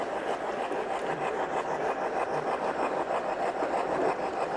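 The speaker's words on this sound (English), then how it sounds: "Speed up the freight train." A steady rattling rumble with a fast, even clickety-clack of small wheels over track joints as a Lionel O gauge model freight train runs, continuing throughout, moderately close.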